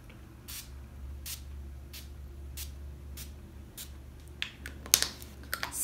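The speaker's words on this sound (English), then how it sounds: "to seal it all off, I usually just do a spray or two of Urban Decay." Urban Decay setting spray misted onto a face during makeup styling, a series of short crisp hissing bursts, evenly spaced and close, ending in a busier cluster of spritzes and clicks.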